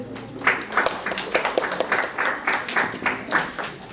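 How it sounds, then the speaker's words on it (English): Scattered applause from an audience welcoming student leaders at a live-streamed gathering, a steady patter of many hands with uneven peaks, moderately loud and continuous throughout. "Let's clap for them."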